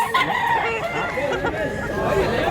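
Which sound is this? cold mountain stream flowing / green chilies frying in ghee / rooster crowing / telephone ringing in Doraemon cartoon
rooster crowing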